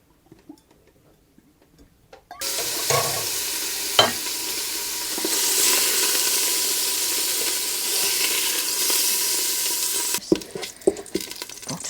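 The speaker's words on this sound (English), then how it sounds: "I'll take you will just do a couple of clips of it searing away" Chopped pork sears in a pan for a Spanish pork dish, giving a steady loud sizzle with light stirring clicks that starts abruptly after a quiet moment and cuts off near the end.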